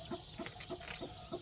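A hen gives a run of about five short, rhythmic clucks, close and clear, with no talking over them.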